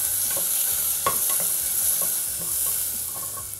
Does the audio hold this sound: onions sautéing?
yes